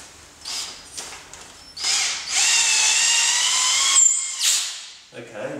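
A power drill drives tech screws into sheet metal while an outdoor kitchen is assembled: a few short whirring bursts, then a loud, steady high whine for about two seconds that cuts off abruptly.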